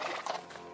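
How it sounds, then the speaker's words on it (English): A horse neighs in a film scene, a sharp close whinny over a clatter of hooves, brief and loud. "What happened to the poor horse?"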